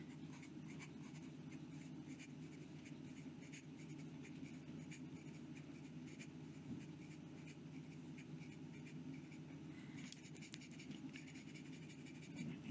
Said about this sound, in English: And some fast writing.